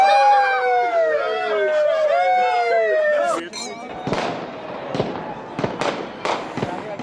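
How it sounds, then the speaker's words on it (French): Fireworks burst during a nighttime crowd celebration, first with long whistling rising streaks, then a run of sharp cracks and booms, loud and fairly close, with faint crowd noise beneath. "les feux d'artifice ont remplacé hier soir le silence"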